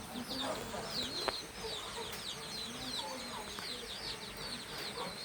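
A chicken clucks in short repeated calls on a rainy morning outdoors, faint and somewhat distant over a steady background wash.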